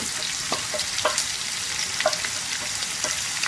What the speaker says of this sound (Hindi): इन सब चीज़ों को अच्छे से फ्राई करूँगी